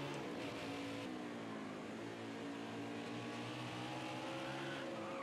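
A race car in the NASCAR Heat 5 video game on a road course, engine whining steadily with tires squealing and skidding under braking, loud and continuous with no talk.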